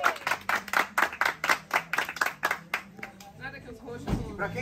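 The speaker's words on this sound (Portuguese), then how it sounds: "Uma vez mais, parabéns pra você, palmas pra você," A small group claps in a quick run of distinct, rhythmic hand claps after a Monte Roraima expedition, then the clapping fades into voices chattering and cheering.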